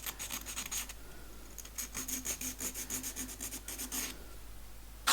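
Wooden box corners being rounded with a file: steady rhythmic rasping strokes in close, repeated bursts, with a short pause near the start of the run.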